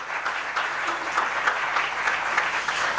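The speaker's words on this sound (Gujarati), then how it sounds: "એકવાર તાળીઓના નાદથી પૂજ્યપાદ સ્વામીશ્રીનું પૂજન કરીએ." A congregation at a Sunday religious assembly (Ravi Sabha) at Loyadham, Vadodara, claps together in sustained, even applause, a dense wash of many hands lasting the whole stretch with no break.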